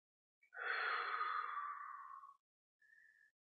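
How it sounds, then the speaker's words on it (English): A single slow, deep exhalation during a guided stretching session is followed by a short, softer breath, close and quiet with no talking. "Just focusing on the breathing can be a little bit difficult"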